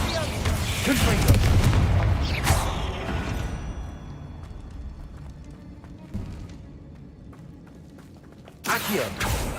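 Hogwarts Legacy spell combat: a fiery Confringo blast booms loudly and rumbles away, followed by scattered sharp impacts, a quieter stretch, and another burst of explosions near the end, with a voice speaking over the fighting.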